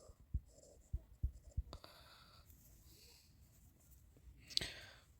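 Pen writing on paper during a maths lesson, a few short scratchy strokes up front followed by quieter continuous scribbling and one brighter scrape near the end, fairly faint and close.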